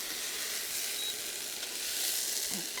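Steady, soft sizzling of kale with tomato and cumin frying in olive oil in a pan, an even hiss throughout, close and moderately quiet with a faint stir near the end.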